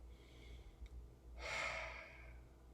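One deep, audible breath, drawn and released at close range over a quiet room, swelling for under a second before fading away.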